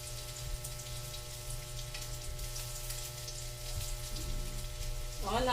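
Spicy chicken feet adobo sizzles steadily in a pan while being stirred, a continuous crackling fry with faint clinks near the end.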